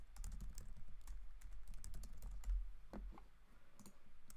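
Rapid keystrokes on a computer keyboard while entering switch VLAN configuration commands, an irregular run of crisp clicks in bursts and short pauses, close and clear over a low hum, with no talking.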